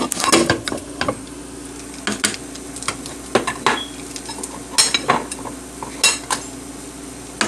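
A spatula scrapes and clanks in a pan while Velveeta cheese is stirred, irregular metallic knocks and scrapes over a soft sizzle, close and busy with no speech.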